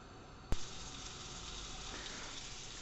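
Lamb fat renders in a hot pan with a steady, soft sizzle, opened by a sharp brief click or clatter before the frying hiss settles in and continues evenly and fairly quietly.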